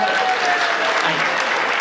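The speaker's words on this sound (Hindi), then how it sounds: "तालियां बजाइए एक बार जोरदार।" Loud, sustained applause from a kavi sammelan poetry crowd, a thick even roar of clapping that fills the whole moment, with a faint voice briefly underneath.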